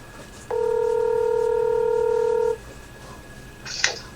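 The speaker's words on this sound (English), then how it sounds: "So we're going to call Thomas Gent and get him on the phone and talk to him for a second." A telephone dial tone sounds as a single clean, steady dual-frequency tone for about two seconds while a call is placed on a live radio broadcast, followed by a short click.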